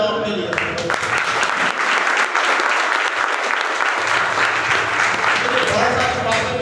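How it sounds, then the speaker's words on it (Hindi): A crowd at a business seminar gives loud, sustained applause, a thick wash of clapping that fills the room for several seconds, with a voice speaking briefly at the start and end. "एक बार जोरदार तालियां बजाओ अपने लिए।"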